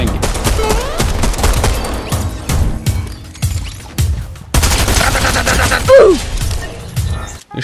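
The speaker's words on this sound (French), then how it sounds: "Ça se flingue." Rapid gunfire crackles through a Fortnite match, with dense bursts of automatic shots and single cracks layered over game effects, loud and close, broken by a brief louder stretch and a rising electronic tone near the end.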